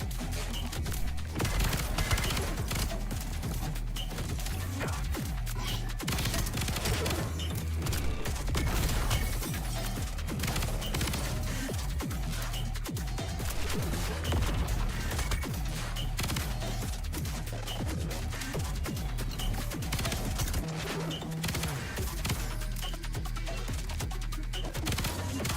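Relentless rapid gunfire from wild weapons in the roguelite shooter Void/Breaker, a dense, unbroken barrage of shots and crashes running nearly the whole time with little pause.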